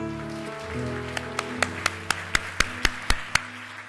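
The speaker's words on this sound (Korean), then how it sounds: "우리 한번 하나님께 감사의 박수를 드리겠습니다." Scattered hand claps in a church congregation during a Sunday service, starting sparse and building into a loose, uneven rhythm of about a dozen sharp claps over a sustained organ or keyboard chord.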